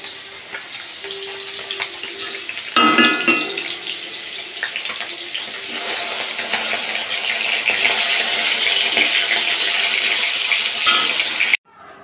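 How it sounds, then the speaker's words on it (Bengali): Fish and potato with bitter gourd frying in a wok, a loud steady sizzle close by that swells after a sharp clatter, with faint tap water running, ending abruptly. "এদিকে কড়াতে আলু করলা ভাজা চাপিয়ে দিয়েছি, আর এদিকে মাছ ভাজা চাপিয়ে দিয়েছি।"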